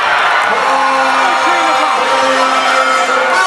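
A packed gym crowd roars and cheers at a high school basketball game between Mount St. Joseph and St. Frances Academy, a loud, steady wash of voices with a few whoops rising above it.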